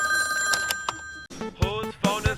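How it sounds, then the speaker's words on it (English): A telephone rings with a bright electronic trill, followed by a brief voice and a chiming ringtone melody with repeated tones, moderately loud and close. "Whose phone is ringing?"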